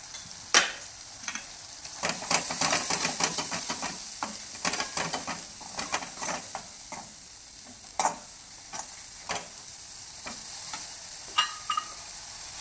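Eggplant sautéing in a pan with turmeric, homemade black masala, mutton masala and ground dal, a soft continuous sizzle broken by frequent scraping stir strokes and clinks of a spatula, close up, with no talking.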